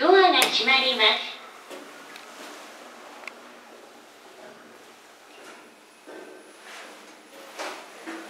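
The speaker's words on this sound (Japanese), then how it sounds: "ドアが閉まります。" An elevator door slides shut in the free passage at JR Iwamizawa station, following a brief automated voice announcement, then a soft rumble and faint mechanical clunks in a quiet setting.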